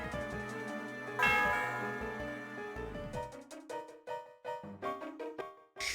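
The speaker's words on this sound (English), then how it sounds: "Might as well ring the bell." A chiming bell rings in Pokemon Black 2 on the DS, a bright tolling tone that sustains and decays under the game's melodic background music.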